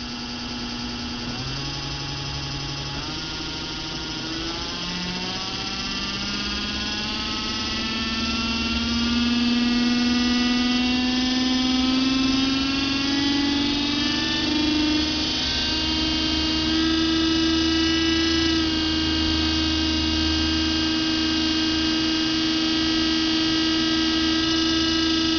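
A normal DC motor with shaved brushes spins up in a continuous electric whine whose pitch climbs in steps and then holds high. It is close and steady, and no voices are heard.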